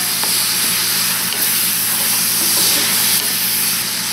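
Garlic hits hot oil in a pan for homemade meatball spaghetti, giving a loud, steady frying sizzle and hiss that runs close and continuous throughout, with faint stirring clinks underneath.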